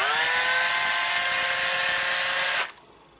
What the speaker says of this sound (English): So I'll just bring my 3mm drill up there.